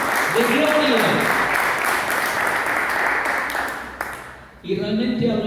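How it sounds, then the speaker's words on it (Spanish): Loud congregational applause during a church service, dense clapping filling the room, fading near the end as a voice and music come back in. "Den un fuerte aplauso al Señor."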